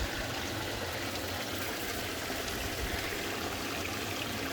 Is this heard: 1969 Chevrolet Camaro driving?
no